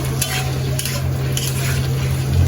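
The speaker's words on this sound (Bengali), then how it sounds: "এখন এই যে সকালের জন্য একটু রান্না বসাইছি" Breakfast food cooks in a pan with a continuous sizzle and soft stirring scrapes, under a steady low hum, close and moderately loud.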